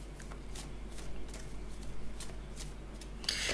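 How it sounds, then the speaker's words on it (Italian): A deck of cards being shuffled by hand during a tarot-style angel card reading, a steady riffling patter lasting the whole stretch and ending in a brighter crisp flurry. "Iniziamo a mischiare le carte."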